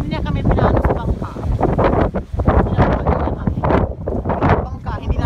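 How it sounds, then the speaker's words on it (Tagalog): Strong wind gusts buffet the microphone at a beach on Camotes, a loud continuous rumble with wind noise over the whole stretch, while people talk throughout. "Super hangin dito, guys."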